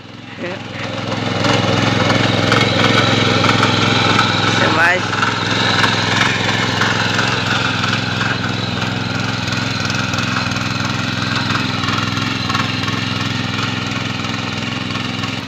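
A tractor engine ploughing a field in Konkan runs loudly with a steady rattling drone that starts up early and continues throughout, with people talking over it.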